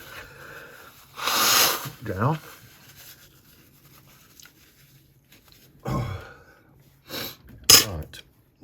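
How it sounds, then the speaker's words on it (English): Someone blows their nose in a few sharp, loud bursts between quiet stretches, then a couple more short nasal blasts, during a paper-craft booklet session; a brief spoken word passes in the middle. "Excuse me, I just blow my nose."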